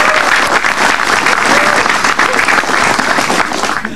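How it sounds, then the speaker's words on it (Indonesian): A stand-up comedy audience at an Indonesian television show breaks into dense, loud applause that holds steady for several seconds and fades slightly toward the end, with crowd noise under the clapping. "Tepuk tangan dong."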